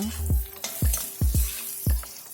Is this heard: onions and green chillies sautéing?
yes